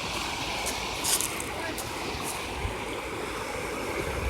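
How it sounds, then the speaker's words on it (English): A small waterfall flowing outdoors on a nature walk, a steady broadband rushing wash of water, fairly close and continuous, with a person's voice over it at moments. "there's a little waterfall that goes down there, but it's like a wave"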